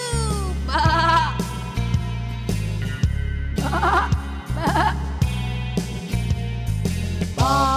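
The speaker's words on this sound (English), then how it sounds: "I am Black Sheep." Several sheep bleat in turns over a steady nursery-rhyme musical backing, each wavering cry short and loud, repeated across the clip.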